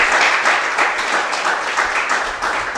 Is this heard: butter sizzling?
no